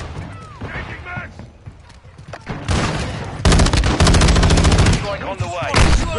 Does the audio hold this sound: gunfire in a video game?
yes